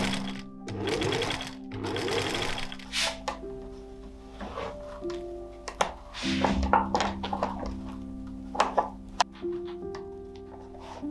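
A sewing machine stitches soft boning directly onto dress fabric for a corset, running in close-up bursts of rapid mechanical whirring, with clicks and thunks between the runs.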